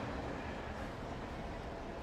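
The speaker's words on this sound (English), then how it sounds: "Oh, this is actually a train running." A train running in the video game Alan Wake gives a faint, steady low rumble with a continuous rolling texture, heard on its own without talk.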